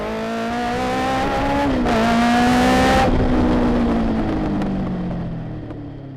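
A hillclimb race car at the British Speed Hillclimb Championship accelerates hard, its engine note climbing through the gears with a loud rising whine that peaks mid-clip before easing as it blasts past.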